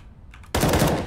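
Automatic gunfire in the Counter-Strike map de_cobble: a sudden loud, rapid burst of shots that starts halfway through and keeps going, with no talk.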